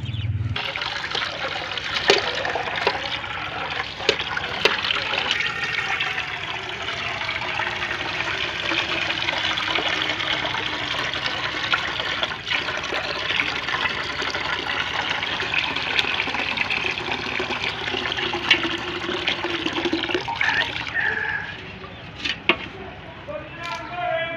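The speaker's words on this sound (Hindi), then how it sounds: "पानी हमने भर लिया" Water gushes steadily from a tap into a container, splashing and rushing continuously for a long stretch, close by.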